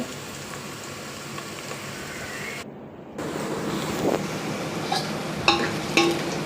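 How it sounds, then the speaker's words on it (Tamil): Onions sautéing to golden in a pan give a soft, steady sizzle. It breaks off briefly, then returns with a few light clinks and stirring scrapes, and no one speaks. "பொன்னிறமாக வதங்கணும் வெங்காயம்"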